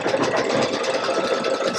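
Embroidery machine stitching out a Thanksgiving hot pad, a steady, fast mechanical whir and rapid needle chatter running continuously at close range with no voices.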